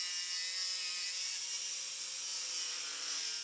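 A SawMax saw cuts plywood for a small corner garage shelf, producing a steady high whining buzz of a small power tool biting through wood, continuous and close with no pauses or talking.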